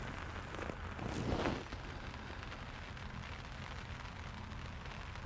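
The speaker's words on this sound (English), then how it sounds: "Keep under the umbrella while the rain and thunder and lightning is going through" Heavy rain patters steadily on a fishing umbrella at Stalham Staithe during a thunderstorm, a constant dense hiss with a brief louder swell early on, no talking.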